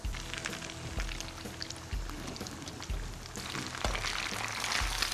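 Battered chicken wings deep-frying in hot oil in a pan for a Thai spicy wing dish, giving a steady, fairly quiet crackling sizzle with denser bursts and no talking.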